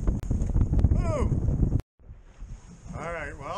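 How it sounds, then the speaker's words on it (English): Strong wind buffets the microphone at the Mayport jetties with heavy rumbling gusts, a sudden brief silence, then more gusting under a speaking voice. "it's super windy"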